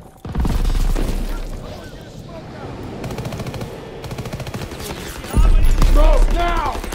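In Call of Duty WW2's D-Day campaign, a grenade blast booms amid sustained machine-gun fire, rattling bursts running throughout with a heavy explosion late on, and voices shouting underneath.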